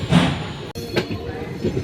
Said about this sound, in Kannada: ನಮ್ಮ ಟ್ರೈನ್ ಈಗ ಲೊಟ್ಟೆಗೊಳ್ಳಿ ರೈಲ್ವೆ ಸ್ಟೇಷನು ಇದೆ